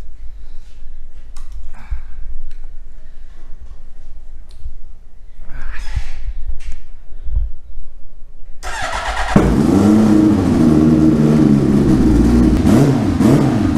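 A turbocharged Hayabusa motorcycle engine suddenly starts and runs loud and close, rough and revving with wavering pitch, after a stretch of quiet shuffling and clanks.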